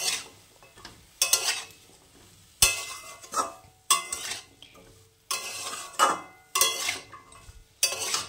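A spoon scrapes and clatters in a pan as a Bengali Malabar spinach seed dish is stirred with salt, coriander powder and ginger paste, in repeated loud bursts of metal-on-pan mixing separated by short pauses.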